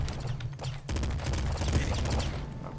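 Quick pop rifle shots fire in rapid succession in a top-down pixel-art shooter, crisp repeated cracks over low game rumble, with a voice talking faintly beneath.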